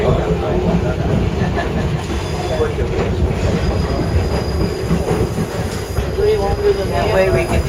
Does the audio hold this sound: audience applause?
no